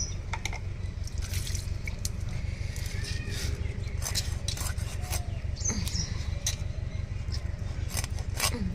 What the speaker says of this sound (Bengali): এবার মাছটা কেটে নেব